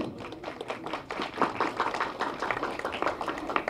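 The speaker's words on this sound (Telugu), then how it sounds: "Please clap." An audience at a film press meet claps steadily for several seconds, a dense patter of many hands in a room.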